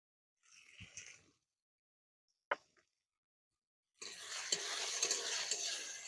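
Chopped tomatoes drop into a pan of frying ginger while cooking egg tadka. A few soft stirring clinks come first, then a loud, steady sizzle bursts up and keeps going close by.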